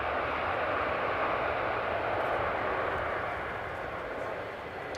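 Delta Airlines airliner passing at Schiphol airport, a loud broadband jet roar holding steady throughout and easing off slightly toward the end, with no talk.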